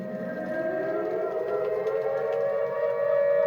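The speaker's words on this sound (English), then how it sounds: "So I also have an air raid siren." A wailing air raid siren rising in pitch and holding a steady, mournful tone, heard alone.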